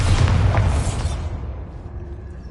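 A Bombarda spell explosion in a Hogwarts video game hits as one deep, heavy boom that rolls out and fades over a couple of seconds, loud and close with no voices.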